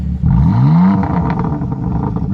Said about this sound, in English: Let's go ahead and do some rev time with Nicole.